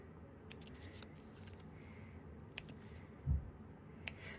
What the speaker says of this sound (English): I'm just going to use these little tiny scissors and just cut them.